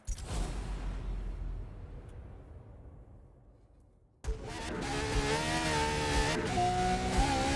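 Engine revving in a drifting video game, the V12 option among the car choices: a loud revving roar fades away over a few seconds, then a fresh engine note cuts in sharply and holds with a rising, wavering pitch.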